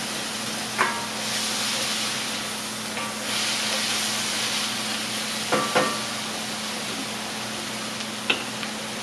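Zucchini slices sizzle in a pan with a steady close hiss and crackle, broken a few times by sharp clicks and taps of a utensil; no one speaks.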